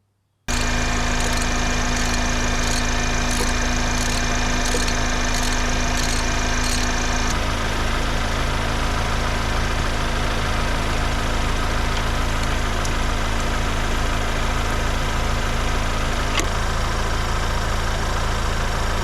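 A Ford Bronco Sport engine idles steadily at close range, a continuous low rumble with an extra repetitive ticking in the first few seconds, running without pause and with no talking.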